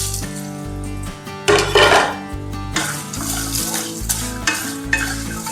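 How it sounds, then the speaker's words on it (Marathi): Cashews tipped into a pan with red chilli powder, cumin powder and chaat masala for roasted masala cashews, a clattering rattle and metal scrape of stirring over a soft sizzle, with a louder burst of clinking in the middle. "आता आपण हे सगळे काजू याच्यामध्ये घालूया"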